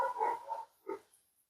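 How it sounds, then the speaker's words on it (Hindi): A dog gives two short barks, the first a slightly longer double yelp and the second a single bark, both at moderate distance with no talk over them. "कुत्ता लोग भौंक रहा है"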